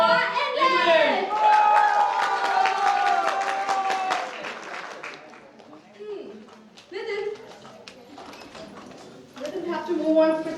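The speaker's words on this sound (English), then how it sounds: "give a huge round of applause for the Glorious Institute for English" An audience at an English-institute stage event gives a round of applause, a spell of dense clapping mixed with music and voices that fades into talk.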